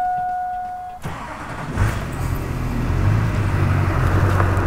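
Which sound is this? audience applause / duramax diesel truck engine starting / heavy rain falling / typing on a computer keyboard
duramax diesel truck engine starting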